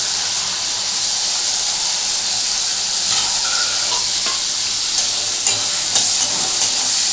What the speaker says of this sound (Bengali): পেঁয়াজটা ভালো করে আমি এখন ভাজবো।